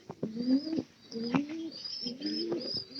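Pigeons coo at close range in a series of soft, rolling calls, joined by a few higher chirps and faint background noise.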